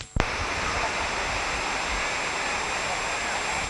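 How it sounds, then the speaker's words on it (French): A large waterfall pours down between two rocky cliff faces at Oued El Bered, a steady, dense roar of falling water that fills the scene without pause after a brief opening knock. "Le site de Oued El Bered est encastré entre 2 flancs rocheux, d'où coulent de grandes cascades."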